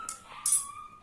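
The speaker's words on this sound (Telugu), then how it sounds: "కుక్క అరుస్తుంది అక్కడ" A dog yelps a few times in quick succession, short high cries that come from some distance away.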